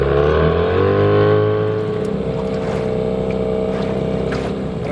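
A motorboat cruises on open water while trotlines are being set for fishing; the engine drones loudly and steadily, its pitch sliding slightly, with wind buffeting the microphone and no talk.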